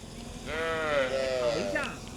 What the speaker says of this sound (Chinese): 第一次那么近距离听到这个牛的声音